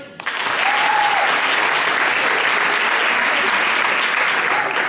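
An audience claps steadily at a pop-rock song contest awards ceremony, a dense, loud wash of applause rising quickly and holding evenly throughout.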